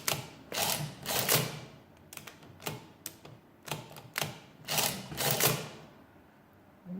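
A Swift small mechanical adding machine being cranked, producing repeated loud ratcheting, clacking mechanical cycles in an irregular rhythm, close up and alone.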